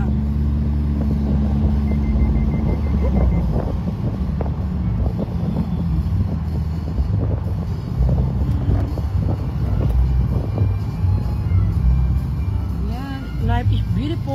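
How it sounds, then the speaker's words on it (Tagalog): A car engine rumbles loudly and steadily like a sports car while driving in the evening, a constant low drone with wind buffeting, under ongoing talk. "Ganyan talaga pag sasakyan parang sport car."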